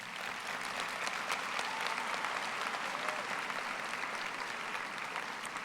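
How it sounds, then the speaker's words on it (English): Graduates and audience at a high school graduation ceremony applaud together, a dense, steady roar of clapping from a large crowd that holds at an even level throughout. "I'd like all of you graduates to give those great people in your life a round of applause."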